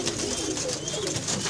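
Pet pigeons cooing in a loft of a longtime pigeon fancier, soft low repeated coos blended into a dense steady background of flock noise and rustling.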